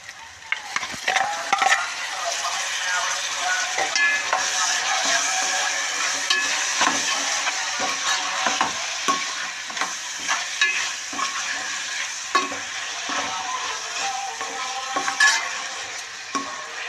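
Mutton pieces sizzle and fry in a pan for bitter gourd mutton curry, with steady broadband crackling and repeated scraping stirs of a spoon against the pan, close and continuous with no talk.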